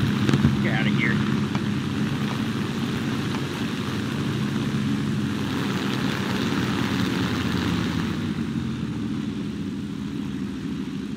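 Steady droning propeller aircraft engines hum continuously in War Thunder, loud and constant with a slight shift in pitch, while someone talks briefly over the roar.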